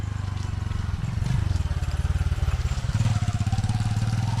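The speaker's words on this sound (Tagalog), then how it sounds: "Yung mga bata, ang dami sakay sa motor." Motorcycle carrying several children on a Philippine roadside, its engine putting along with a steady low pulsing rhythm that swells slightly as it passes close by, with no talk.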